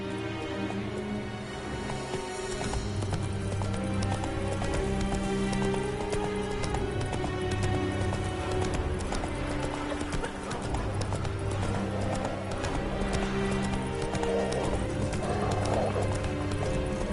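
Hooves of a horse in The Witcher 3 galloping in steady, rapid clip-clop rhythm, loud and close, over a continuous bed of game music and ambient sound, with no talking.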